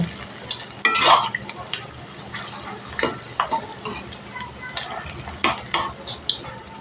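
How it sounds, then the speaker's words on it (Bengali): Cabbage pakoras deep-frying in hot oil until crisp, a continuous bubbling sizzle broken by repeated scrapes and clinks of a spoon against the pan, heard up close. "বাকিগুলো একসাথে দিয়ে একদম কড়া করে ভেজে নেব।"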